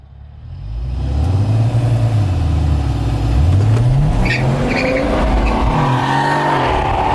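A tuned BMW 435i launches hard from a standing start on a late-night street in Mexico, its engine roaring up through rising revs with a short gear-change dip and then pulling on, very loud and close, with no talking.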